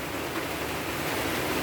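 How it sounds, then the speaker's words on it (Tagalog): Steady rain falling outdoors in a rural province setting, a dense even hiss with no distinct drops standing out, continuous and fairly loud with no voices. "Tapos ngayon na ulan na naman."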